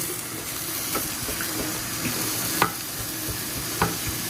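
Dry ingredients and peeled whole garlic frying in a pan as they brown, giving a steady low sizzle with a few faint scrapes and light clicks spaced out over a few seconds, no talking.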